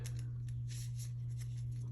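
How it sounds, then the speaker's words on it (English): A deck of cards for the Hero Realms card game being shuffled close up: soft, quick papery riffles and flicks in uneven bursts over a constant low electrical hum, with no talking. "Let me shuffle up my deck"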